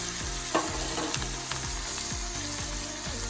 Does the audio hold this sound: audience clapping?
no